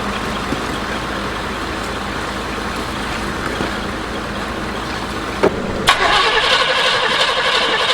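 A carbureted engine in an antique motorhome cranks and catches around the middle, then settles into a steady idle, loud and close, with no talking, on a cold day near freezing.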